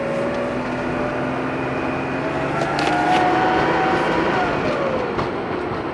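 A Porsche 930 drives slowly with a steady, loud engine and road rumble throughout, swelling slightly midway, with no talk over it.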